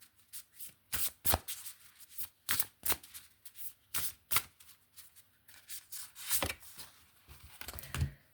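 A tarot card deck being shuffled by hand in quick, crisp riffling bursts, close and fairly quiet, repeating steadily for several seconds with no talking.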